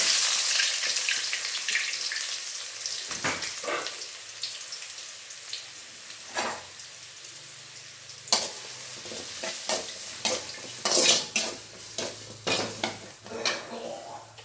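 Onions and mustard seeds fry in oil in a pan for a tomato gojju, giving a continuous bright sizzle with repeated scraping and clinking stirs that grow more frequent toward the end.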